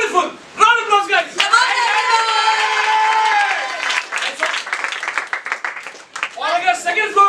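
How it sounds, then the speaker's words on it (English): A burst of clapping from a small crowd at a felicitation celebration rises midway, between stretches of people talking. "Round of applause, guys."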